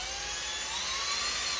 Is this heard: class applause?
no